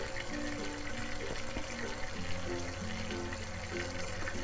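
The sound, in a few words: Topka JY-03 surface skimmer aerating water, bubbling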